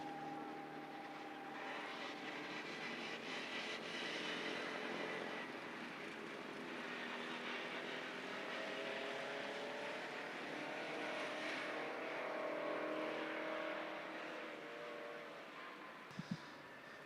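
An autograss racing car on the circuit, a steady faraway engine drone lapping the track at a low level, with no talk.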